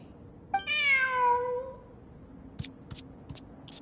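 A cat in the video game Genshin Impact gives one clear, drawn-out rising meow, followed by a few short, faint clicks and taps.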